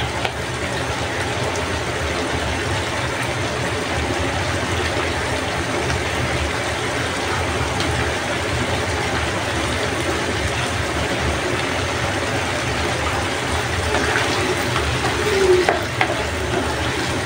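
Squid sautés in a hot pan with a dense, continuous sizzle that stays loud and even throughout, with faint stirring scrapes now and then.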